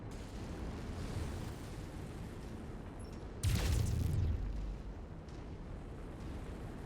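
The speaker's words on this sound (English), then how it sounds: "Incoming missile." A missile blast in the mech combat game MechWarrior 5, a sudden loud booming burst with a deep low rumble that swells and fades over about a second amid steady battlefield noise, no talk.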